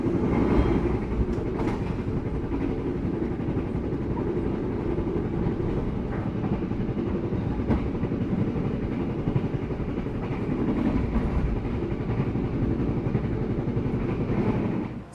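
The Bangunkarta executive train runs on the rails near Kroya and Sumpiyuh in Cilacap, a continuous loud rumble heard from inside the carriage with steady clickety-clack and occasional sharper knocks throughout.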